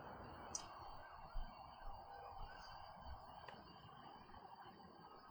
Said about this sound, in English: I can hear some sirens in the background.